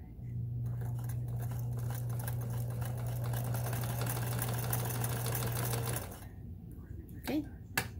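A Kenmore sewing machine stitches a zigzag seam in a steady, fast whirring hum for about six seconds, then stops, leaving faint handling clicks; the running motor sounds fairly quiet and close.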